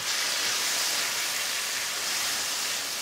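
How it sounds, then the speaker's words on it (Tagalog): Garlic, onion and tomato sauté in a reused pan for Filipino palabok, giving a steady, loud broadband sizzle and hiss that stays even throughout, close and uninterrupted. "Same pan, mag-gisa tayo ng garlic muna, sibuyas, konti lang,"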